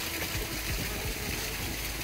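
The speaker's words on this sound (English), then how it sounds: "Really nice waterfall, you can hear that right behind me right here." Continuous rushing water from a waterfall at a tea shop in Gyeongju, South Korea fills the background, a steady broadband wash of falling water close by, with no voices.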